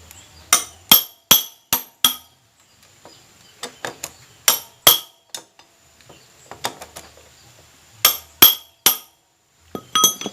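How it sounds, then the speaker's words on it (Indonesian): A nut being loosened on a Honda Supra Fit engine during a cam chain replacement: sharp metallic taps and clinks in short bursts, loud and close, with quiet gaps between, no talking. "kita kendorkan dulu bagian mur yang ini"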